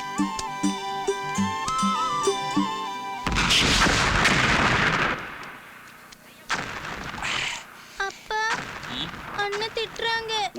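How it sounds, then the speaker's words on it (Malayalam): Kathina firecracker blasts from a Malayalam film scene erupt as a loud, dense burst of booming explosions after a stretch of music, then fade as people talk and shout. "നീ എന്തിനടാ ഈ കതിനാ വെടി കെട്ടിച്ചിരിക്കണം?"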